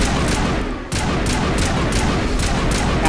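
Sustained, dense gunfire fills a Mass Effect Legendary Edition firefight, loud and continuous, with rapid repeated bursts rolling on without pause for the whole stretch.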